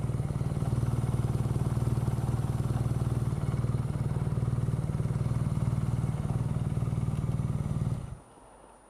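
A 2014 BMW R nineT engine runs with a steady, loud low thrum and even mechanical pulsing throughout before cutting off abruptly near the end, leaving a faint hiss.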